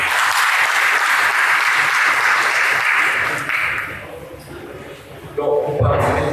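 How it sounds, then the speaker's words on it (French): Applause from a large audience at a lecture on energy supply and renewable energy law in Cameroon, loud and dense for several seconds. It thins partway through, then swells again near the end. "je vous suggère déjà d'applaudir pour vous-même"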